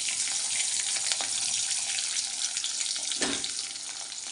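Hilsa fish heads, fried once before, frying again in hot oil: a close, steady hiss of sizzling with a brief splash-like burst near the end, no voices.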